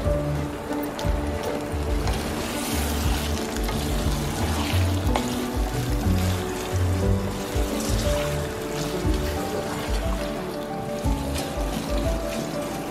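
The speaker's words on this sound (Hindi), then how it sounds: "और अब इसके अंदर हम ऐड करेंगे कलेजी" Chicken liver frying with fried onions, cumin, cinnamon and black pepper gives a steady, loud, broad sizzle that runs unbroken throughout.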